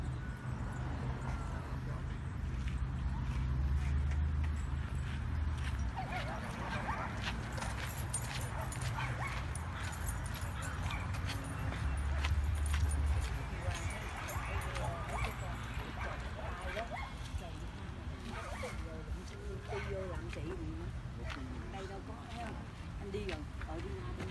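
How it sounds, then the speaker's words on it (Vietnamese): Dogs bark and yip at an outdoor dog park, with scattered barks and whimpers spread through the scene, fairly low and mixed with background voices and general ambience. "chỗ này là sân chơi cho chó chơi á"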